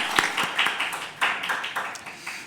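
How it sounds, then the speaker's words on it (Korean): Church congregation clapping during a Korean Sunday worship service in Shanghai, a short burst of separate, fairly close claps in an uneven rhythm that thins out toward the end. "하나님께 영광의 박수 올려드리겠습니다."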